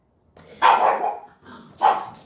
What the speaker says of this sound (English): I don't know if you can hear the dogs, but somebody's out around.